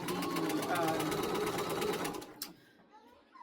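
A sewing machine runs a straight stay stitch across a skirt waist in a fast, even rhythmic hum for about two seconds, then stops, leaving a brief click and quiet handling.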